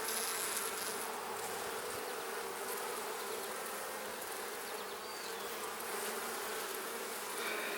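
A dense, steady drone of many honey bees buzzing close by at an open hive, continuous and unbroken throughout.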